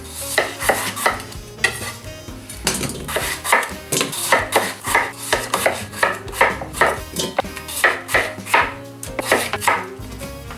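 A knife chops peeled potatoes on a cutting board in a steady series of close, sharp taps, with brief pauses between runs of cuts.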